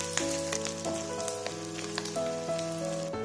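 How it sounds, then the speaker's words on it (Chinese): Pork sizzles in a wok as garlic and fermented black beans are stir-fried in rendered fat, a steady close crackle broken by scraping spatula strokes, with music playing underneath. "炒出油脂后倒入蒜粒豆豉，继续翻炒，把它们的香味炒出来"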